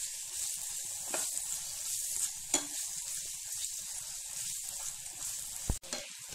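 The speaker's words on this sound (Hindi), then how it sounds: "अब हम डालेंगे अदरक लहसुन का पेस्ट और 1 से 2 मिनट तक इसे भी हम प्याज के साथ भून लेंगे।" Onion with ginger-garlic paste frying in a pan, a continuous close sizzle and hiss with occasional soft stirring scrapes and a sharp clack near the end, no talking.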